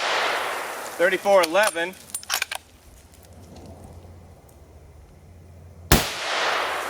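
A single sharp, loud .270 Winchester rifle shot, fired with a max powder charge of Hornady 100-grain GMX in Hornady cases, cracks close by near the end after a person briefly speaks.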